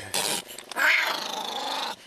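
A young male wild cat cub on the coast gives a loud, close, raspy growl, one harsh burst followed by a sustained snarling rumble lasting about two seconds.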